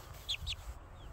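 A tiny Serama hen, the smallest chicken breed, gives two quick, soft clucks close by against a low rumbling background.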